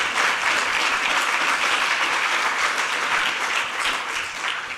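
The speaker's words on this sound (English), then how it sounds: "Whoever started the clap, yeah, thank you." Audience at an annual meeting claps steadily and fairly loudly, a full, even wash of many hands that holds throughout with a slight easing near the end.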